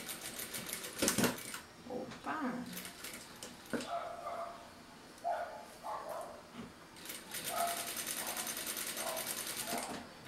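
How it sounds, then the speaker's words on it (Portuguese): A sewing machine stitching a pocket on a Frida Kahlo–themed Mexican wallet, running in short bursts of rapid clattering stitches with pauses between them, fairly quiet, with faint voices and handling noises in the gaps. "Eu só tô costurando esse bolso aqui."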